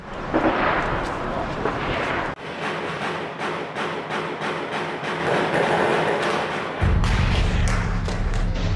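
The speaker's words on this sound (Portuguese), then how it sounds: "Começou o tiroteio de novo." Gunfire in the Rocinha favela, Rio de Janeiro: a steady run of sharp, repeated cracks and thuds, some close and some distant, over a rumbling background of wind and street noise.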